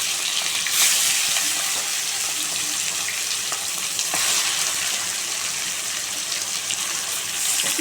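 Marinated chicken hits hot oil seasoned with bay leaves, garam masala and a dried red chilli, setting off a loud, steady sizzle that keeps up throughout, with no talk over it.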